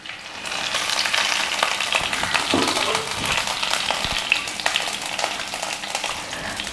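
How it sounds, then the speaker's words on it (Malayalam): Karimeen (pearl spot fish) fries in a pan with a continuous, crackling oil sizzle and occasional pops and scrapes, heard close up with no talking. "നമുക്ക് ഈ സൈഡും കൂടെ ഒന്ന് ഫ്രൈ ചെയ്തിട്ടെടുക്കാം"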